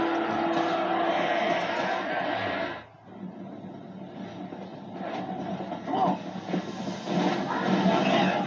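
Train rumble and rail clatter from Red Dead Redemption: Undead Nightmare, a steady loud mechanical roar that dips briefly near the middle before resuming, with game voices talking over it.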